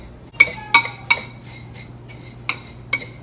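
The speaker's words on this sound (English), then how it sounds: "Stir the dry ingredients." A utensil stirring dry breading of shredded coconut and breadcrumbs in a bowl, giving a handful of close, bright clinks and taps against the bowl at uneven intervals over a low hum.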